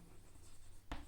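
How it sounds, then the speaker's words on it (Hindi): Faint scratching of writing during a mathematics lecture, a soft steady rasp that ends in a brief louder stroke, alone without speech. "यहाँ लिख रहा हूँ"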